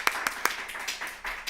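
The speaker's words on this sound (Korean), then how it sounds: "네, 박수 한번 해주시겠습니까?" A congregation at a Sunday university church service clapping: a few sharp, separate claps near the start that blur into a short, loose patter of hands, moderately distant.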